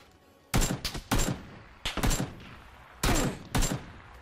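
Gunfire in the video game PUBG: several short, loud bursts of rapid shots separated by brief pauses, with no talk over them.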